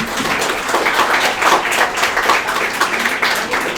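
An audience claps together in a dense, sustained round of applause, lively and close, with individual hand claps blurring into a continuous patter for the whole stretch.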